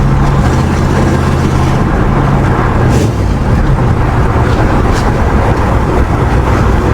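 Steady low rumble of a first-generation Chevrolet S10 pickup with a V8 swap cruising on the road, dense continuous engine and road noise from inside the cab, even and smooth throughout with no voices.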